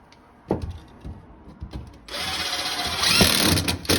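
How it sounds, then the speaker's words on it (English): A power drill drives regular 1.5-inch drywall screws into sheetrock on the wall of a Delta Classic 500 stand-up shower. A few scattered knocks come first, then a loud, steady whirring whine runs to the end. "And then we're just using regular drywall screws."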